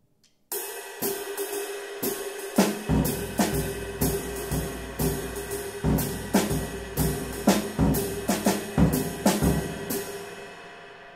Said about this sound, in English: so chord notes are going to be on the bass drum.